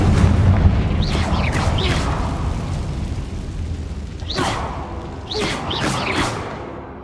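Confringo fire-spell explosions in the video game Hogwarts Legacy, with a loud rumbling boom followed by several crackling bursts in quick succession.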